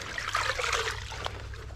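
Clean pond water pours from a bucket in a steady trickling splash, close and fairly quiet, running alone for under two seconds.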